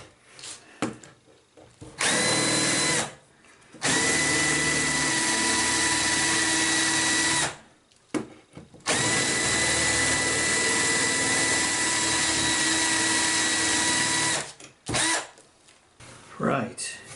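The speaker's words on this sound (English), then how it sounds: "I'm going to drill with a working battery and a drill that isn't blunt as anything." Cordless power drill running in long, loud bursts with a fresh, sharp bit boring into wood, two sustained whines of several seconds each with short pauses between, brief spin-ups at the edges.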